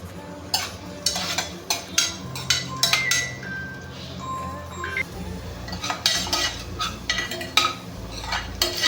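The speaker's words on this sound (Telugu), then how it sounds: "నూనె వేడెక్కిన తర్వాత ఉల్లిపాయలు, కట్ చేసుకున్న ఉల్లిపాయలు వేయాలి ఫ్రెండ్స్" Chopped onions go into hot oil in a pan, giving a soft sizzle beneath repeated clinks and scrapes of a metal spoon stirring against the pot.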